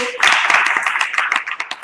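Applause from an academic audience of university students and creators, a short burst of dense clapping at close range that fades slightly toward the end, with voices mixed in.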